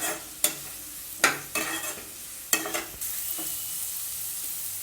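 Pre-roasted paneer cubes are stir-fried in a pan for paneer fried rice: several sharp spatula scrapes and clatters punctuate a soft, steady sizzle, close and clear, with no voices.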